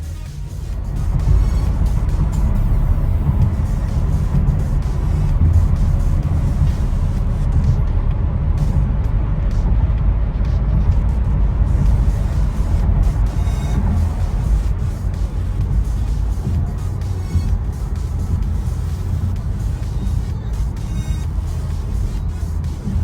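A Jeep Avenger EV pulls away behind a car ahead. A steady low rumble of tyres and road noise fills the cabin with no voices.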